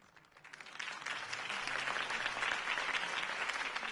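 Crowd applause swells after a campaign speech in the video game Batman: The Telltale Series, building from quiet into a steady, moderately loud wash of clapping.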